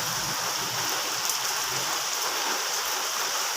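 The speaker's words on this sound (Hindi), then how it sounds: "अभी भी बारिश शुरू है।" Steady heavy rain pours down in a village, an even, close hiss of falling water with no voices.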